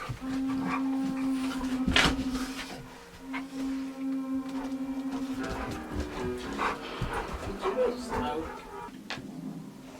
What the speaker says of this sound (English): Just letting the dogs out for the last time.